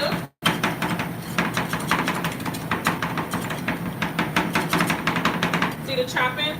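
Rapid metal spatulas chop rolled ice cream mix on a freezing cold plate, a fast run of sharp clacks and taps that keeps going, with a voice talking over it.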